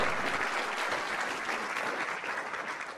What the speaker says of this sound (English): So round of applause for all our sponsors.